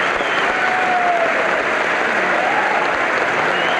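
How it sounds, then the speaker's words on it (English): Sustained standing applause from a large political audience greeting New Jersey Governor Jim Florio at his 1991 State of the State address, a dense, even roar of clapping holding steady throughout. "Standing applause."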